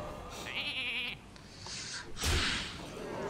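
A sheep bleats in the Hearthstone card game, a clear wavering cry that stands out briefly over background game sounds, followed by a short thud and a softer whooshing effect.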